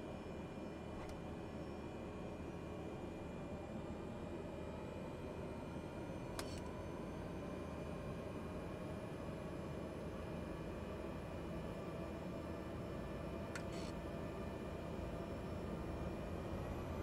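A Cessna 208B Grand Caravan's turboprop engine drones steadily during takeoff from a runway in Beruri, Amazonas, in Microsoft Flight Simulator, a constant, even roar with faint brief clicks, no voices.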